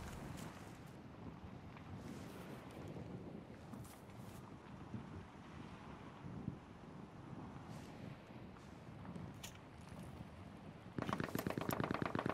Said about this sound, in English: Fellas, I hear heavy shooting where I am.